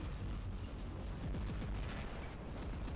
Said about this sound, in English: The energy shield blocking the ballistic rounds of the Tulumbas.